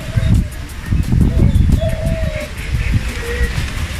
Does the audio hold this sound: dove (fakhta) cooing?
yes